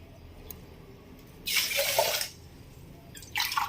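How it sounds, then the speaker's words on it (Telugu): Water poured from a glass into washed rice for mango pulihora, two short splashing pours with a quiet gap between them, close and fairly loud against a faint background, no speech. "దీంతోనే ఇప్పుడు రెండు గ్లాసుల నీళ్లు పోసుకోవాలి ఇలా"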